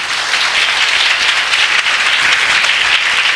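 A church congregation claps and applauds together during a morning worship service, a loud, steady wash of many hands with no pauses.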